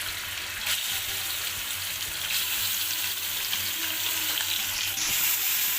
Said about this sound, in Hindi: और अब मैं इसमें चिकन ऐड कर रही हूँ।